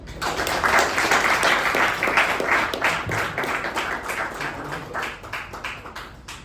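A dense round of applause fills a university Toastmasters meeting as the club president is welcomed, many hands clapping steadily and loudly for several seconds before tapering slightly.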